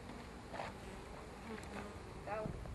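Honeybees buzz over a hive frame, a soft continuous hum with a few louder passes of individual bees close by.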